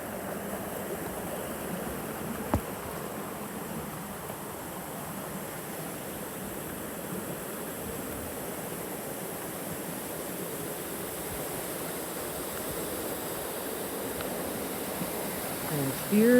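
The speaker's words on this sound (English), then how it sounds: "And here is the waterfall." Buck Gulch Falls on a rainy hike, heard as a steady, even rushing of falling water that stays constant and fairly loud throughout, with a faint click partway through.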